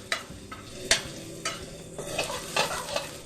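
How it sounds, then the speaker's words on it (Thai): Chopped garlic frying in hot oil in a pan for Thai chicken krapao with dried chilies, with a steady sizzle broken by sharp scraping stirs of the spatula every second or so, close and fairly loud with no talking. "ใส่กระเทียมที่เราสับไว้ได้เลยค่ะ"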